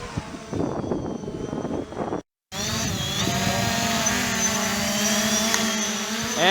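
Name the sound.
Holy Stone HS700D drone taking off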